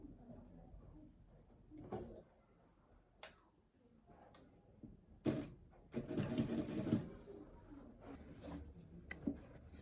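A sewing machine stitches along the elastic waistband of cargo shorts in short, uneven bursts, the longest run near the middle, with handling noises and quiet pauses between stitches.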